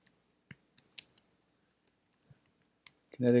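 Keys tapped on a computer keyboard to type a layer name: sparse, light clicks scattered irregularly in quiet, ending as a voice begins.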